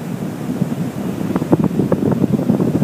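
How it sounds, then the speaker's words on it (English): Storm wind buffets the microphone as ocean waves surge and crash, a loud, continuous roar with rumbling surf. "Finally, after all this time, we get a storm and some waves."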